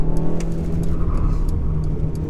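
A 2021 Mercedes GLA200 with a 1.3 litre engine drives on a country B road, its engine droning steadily and loudly from inside the cabin with a low rumble of acceleration and road noise throughout.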